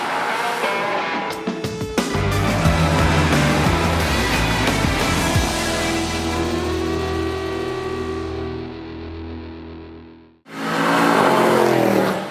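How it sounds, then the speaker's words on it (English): A Jeep Grand Cherokee Trackhawk with a 707-horsepower supercharged V8 accelerating hard, its engine roaring and climbing in pitch through a long loud pull, then briefly cutting out before revving again. "This is basically a Grand Cherokee with the 707 horsepower supercharged V8 from a Dodge Hellcat under the hood."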